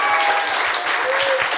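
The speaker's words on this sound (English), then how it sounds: "the applause was exactly tracking linearly to how recently we heard what you said" A live audience at a podcast taping bursts into loud, close applause, a thick unbroken roar of clapping from start to finish.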